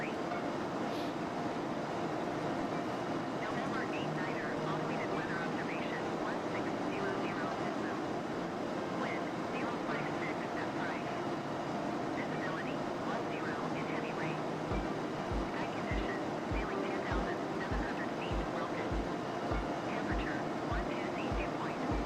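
A Cirrus light aircraft engine drones steadily in flight within Microsoft Flight Simulator, a constant mid-level hum with a faint rhythmic low thumping pulse joining toward the end.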